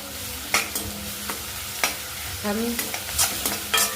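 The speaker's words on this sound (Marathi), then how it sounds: "एक चमच अद्रक अद्रक लसणाची पेस्ट घालणार आहे आणि मस्तपैकी पण फ्राय करायची" Ginger garlic paste frying in a pan for fried rice, stirred with a spoon: a soft sizzle under repeated sharp scraping and clinking strokes at an uneven pace, close by.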